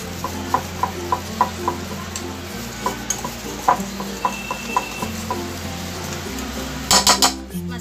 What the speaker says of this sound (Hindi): अब इन सब मसालों को मिला लें दही के साथ, दही नींबू का रस जिंजर गार्लिक पेस्ट के साथ।